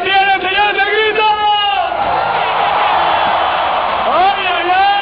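Loud crowd shouting and cheering at a Red Bull X-Fighters freestyle motocross semifinal in Mexico, a sustained roar of voices with whoops, partly over an excited commentator talking at the start and end.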